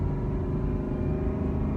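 Deep, steady engine rumble of a 2018 Ford Mustang GT 5.0 V8 convertible heard from inside while cruising with the top up, a continuous low drone with no talking.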